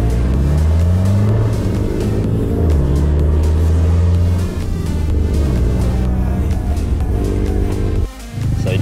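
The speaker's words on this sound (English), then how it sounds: "Jackson just fucking accelerated a bit hard and popped a fucking wheelie." Vehicle accelerating hard into a wheelie outdoors near Collie, Western Australia, a loud, close engine roar rising and falling in pitch for several seconds before a brief drop near the end.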